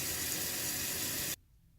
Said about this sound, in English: I'll just let it run for a second until you see where the water actually fills up to.